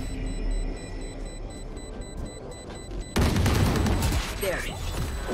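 In the Valorant video game, the spike bomb goes off with a sudden, loud, broadband blast partway through. Gunfire and game sounds come before it, and the roar of the explosion stays loud to the end.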